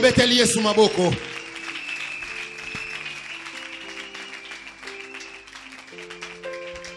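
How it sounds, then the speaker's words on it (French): A church congregation claps and cheers for Jesus, applause swelling loudly at first and then continuing more softly under held organ or keyboard chords and voices. "Acclamons Jésus"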